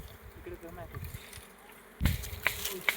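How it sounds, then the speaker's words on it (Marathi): Wild honeybees buzz steadily in the background while faint sounds of handling carry on among small branches, with a louder rustle and a few sharp clicks near the end. "तुम्ही नीट लक्ष दिलं तर तुम्हाला मधमाशाचा आवाज येईल"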